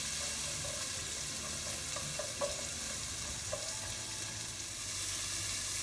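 Sliced peppers and carrots fry in a pan with a continuous bright sizzle, interrupted by a few light scrapes and taps as they are stirred, close and with no talking.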